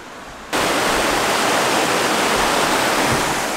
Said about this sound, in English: Look at that awesome river.